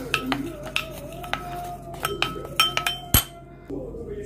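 A spoon stirs a yogurt and honey paste in a glass bowl, giving a string of bright, irregular clinks against the glass, close and fairly crisp, with a sharper knock near the end.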